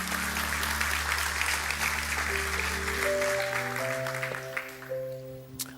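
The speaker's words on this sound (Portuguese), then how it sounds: "Dê um aplauso bem forte a Deus" A church congregation breaks into strong applause at a Portuguese-language service while a sustained organ or keyboard chord hums underneath; the clapping thins toward the end as rising keyboard notes take over.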